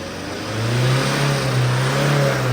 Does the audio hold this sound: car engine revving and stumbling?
yes